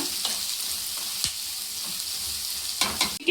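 Lengthwise-sliced onions and two green chillies sauté in a pan, a close, steady sizzle with occasional spatula scrapes and a louder stir near the end.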